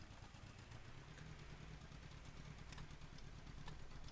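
A big Fiat tractor engine in Farming Simulator 17 runs with a steady mid-pitched rumble and light mechanical clatter, continuous and fairly close, with no talking over it.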